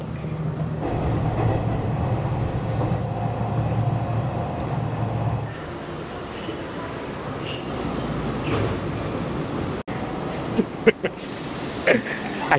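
Steady rumble of an express train running toward Osaka station, a broad continuous roar that eases partway through, followed by a few sharp clanks and knocks near the end.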